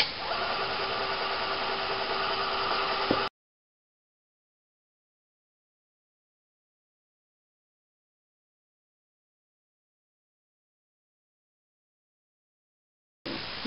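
A Fann 35 viscometer motor runs steadily at 600 RPM, a constant mechanical whir for a few seconds that cuts off abruptly, followed by silence before it briefly resumes at the end.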